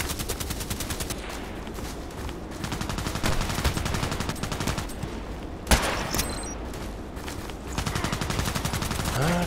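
Rapid gunfire in the first-person shooter Contract Wars, with sustained automatic bursts crackling continuously and one sharp louder shot standing out midway, dense and close throughout.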